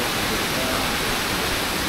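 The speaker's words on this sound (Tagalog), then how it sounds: "Narating na natin yung isa sa pinakamagandang waterfalls dito" Asen Falls pours with a dense, loud, unbroken broadband rush, close and steady, with no distinct gaps or other sounds standing out.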